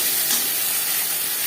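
Ginger paste and green chilli frying in hot oil after panch phoron and bay leaves, giving a steady close broadband sizzle that holds evenly throughout with no voices.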